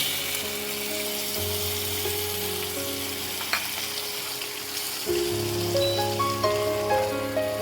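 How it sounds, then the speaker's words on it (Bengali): Spice paste for a raw banana dudhiya frying in a pan, a close, continuous sizzle with stirring scrapes, swelling louder partway through as the heat picks up. "মশলাটা ভালো করে একটু কষিয়ে নেব"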